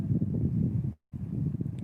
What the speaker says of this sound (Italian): Stasera fortunatamente a quest'ora è uscito un po' di vento fresco